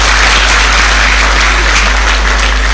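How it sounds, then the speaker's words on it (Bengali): Steady, dense applause from an audience at a career event in Chittagong, Bangladesh, sustained and loud throughout with no break, hand claps merging into a continuous wash. "তার জন্য একটা জোরে হাততালি হবে।"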